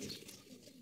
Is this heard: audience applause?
no